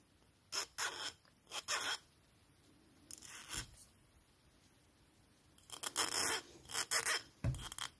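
A hand file rasping in short, separate bursts, with groups of quick strokes and a quiet gap in the middle, close and fairly faint.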